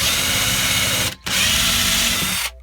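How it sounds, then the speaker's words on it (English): A power drill bores dowel holes in wood for a 1:32 scale model farm fence, running loud and steady in two long bursts split by a brief pause. "But I just drill out these holes"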